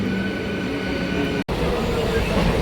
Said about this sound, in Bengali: এই যে স্টেশনে আসতেই ট্রেন ঢুকে গেছে